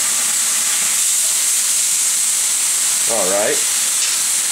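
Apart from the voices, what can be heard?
liver sizzling in a pan after flipping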